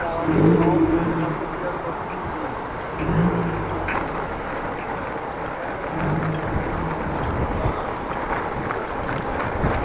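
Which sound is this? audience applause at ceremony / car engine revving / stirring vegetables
car engine revving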